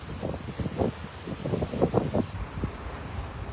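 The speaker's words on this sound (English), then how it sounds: "Windy as the dickens up here." Strong wind gusts buffet the microphone on a beach at Delnor-Wiggins in North Naples, Florida, a steady rumbling roar with irregular low thumps, loud and close throughout.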